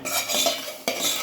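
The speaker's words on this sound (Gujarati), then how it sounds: "સેજ અડધી ચમચી ગરમ મસાલો અને મટર, એને બરાબર હલાવી લઈશું." A metal spoon stirs peas and garam masala in a cooking pan, scraping and clinking against the metal in quick close strokes with a faint sizzle beneath.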